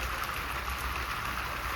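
Rain falls steadily, a continuous even hiss of drops with no pauses, voices or other sounds standing out.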